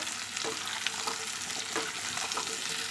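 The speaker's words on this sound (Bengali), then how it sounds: "কিছুক্ষণ আলুটা আমি পেঁয়াজের সঙ্গে নেড়ে নিয়েছি" Small new potatoes stirred with fried onion in a pan make a continuous close sizzle broken by soft scraping and shuffling strokes.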